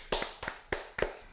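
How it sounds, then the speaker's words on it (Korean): Four sharp hand claps from studio hosts on a Korean radio-style talk show, spaced evenly about a third of a second apart, close and crisp with no talk over them. "박수!"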